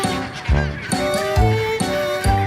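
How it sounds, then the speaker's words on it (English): Harsh, donkey-like braying honks from seabirds in Antarctica repeat in a rough rhythm, loud and close, with several calls overlapping. "And these guys, it's more of a sort of a donkey squawk?"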